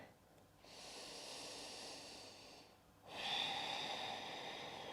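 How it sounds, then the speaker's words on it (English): Two long, close breaths during a yoga session, steady airy exhales through the nose or mouth, the second slightly stronger, with no talking. "and breathe out. One more breath."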